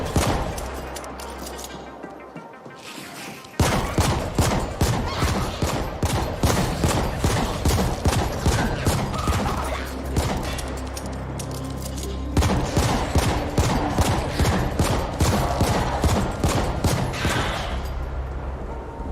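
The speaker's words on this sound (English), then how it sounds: "I think the gun sounds a little bit too loud." Video game target-practice gunfire: loud, rapid, continuous volleys of shots that keep firing for nearly the whole stretch, with a brief quiet gap near the start.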